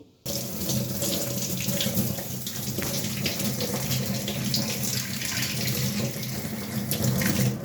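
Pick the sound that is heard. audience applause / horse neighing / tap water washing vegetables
tap water washing vegetables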